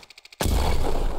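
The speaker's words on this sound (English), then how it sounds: "That was a suicide bomb, sir!" A suicide bomb detonates in a war video game: one sudden, loud, deep explosion that hits abruptly after a short run of faint rhythmic clicks, then rolls on as a broad, sustained rumble.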